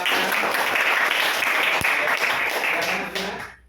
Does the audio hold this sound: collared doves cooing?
no